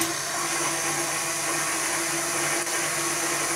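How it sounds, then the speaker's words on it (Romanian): An electric mixer beats egg whites at low speed for a cake batter, giving a steady, continuous whirring motor drone at close range with no talking. "Adăugăm în mixer albușurile"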